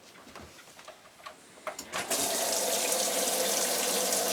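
A washing machine starts with a few clicks and beeps, then cold water rushes in loudly and steadily as it fills, alone without talk.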